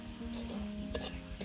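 Caramel is stirred in a pan over a clay stove, a continuous close scraping and sizzling with a few brief metallic clinks. No voices.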